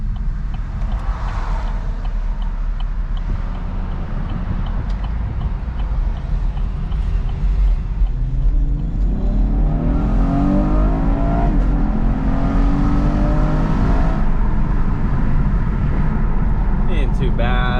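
A V6 muscle car engine in sport mode, revving and accelerating with rising and falling pitch sweeps, loud and close amid road and wind noise, the strongest pulls coming in the second half.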